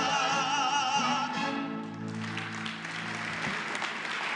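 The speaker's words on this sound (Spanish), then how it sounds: "Que se escuche fuerte ese aplauso para todas las madres en este día" Applause for mothers on Mother's Day at a Mexican presidential press conference, rising as a sung melody with instruments fades, then a broad sustained clapping wash from a large crowd.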